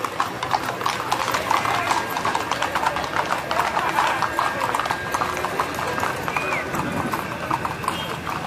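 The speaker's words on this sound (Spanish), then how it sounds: "Miren más, chulada de caballos" Many horses' hooves clip-clop on pavement during a horseback parade (cabalgata) in Yautepec, Morelos, a dense continuous clatter with a distant whinny. People talk over it.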